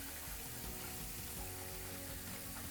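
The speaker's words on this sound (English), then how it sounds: "start to soak them in the warm water" Warm soapy water sloshes and trickles while AirPods Max ear cushions soak, a steady close wash of watery noise with no talking.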